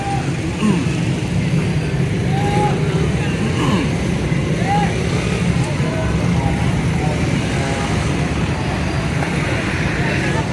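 Heavy traffic at Bhati Chowk in Lahore, a continuous dense roadway rumble with scattered horn-like tones and engine noise, a voice talking over it.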